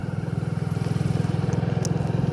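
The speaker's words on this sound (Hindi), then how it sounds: "ये रौनक बाइक चला रहे हैं" A motorcycle ridden at night along a dark forest road through dense jungle, its engine a close, loud, steady pulsing chug with a rapid regular throb and faint rattles over the top.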